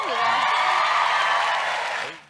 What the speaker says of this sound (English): They're cheering because he drinks alcohol